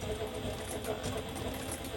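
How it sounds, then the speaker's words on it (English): A sewing machine stitching leather for an apron runs in a steady, rapid mechanical chatter, with a voice talking over it the whole time. "It's amazing when you have this kind of control when you're sewing leather"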